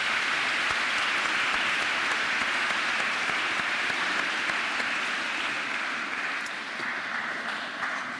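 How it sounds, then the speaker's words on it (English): An audience at a college athletic awards ceremony breaks into sustained, even applause, a broad wash of many hands clapping at a steady level that eases slightly near the end, with no talking. "So let's give her a round of applause."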